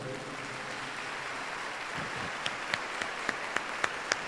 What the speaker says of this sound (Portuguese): Vamos dar uma salva de palmas para essa turma.